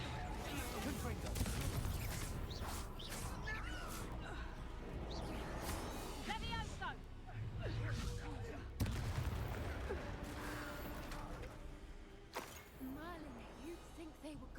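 Fiery blasting spell explosions and combat effects in the game Hogwarts Legacy, a dense, loud run of bangs and crackles over a continuous background score, with voices calling out during the fight.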